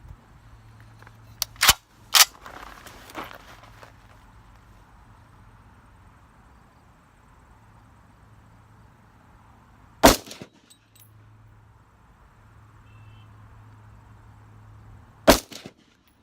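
Dissident Arms Defector rifle firing while being zeroed from a rest: sharp, loud single shots, a quick pair early, then two more widely spaced, each followed by a short tail over low outdoor hum.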